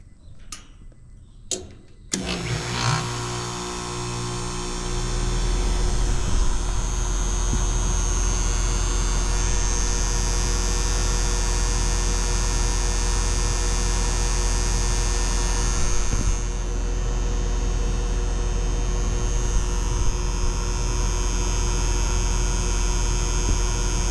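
Goodman HVAC condenser unit starts up after a few clicks and runs with a steady, loud hum and low mains drone, its fan blowing hot air continuously with no talk.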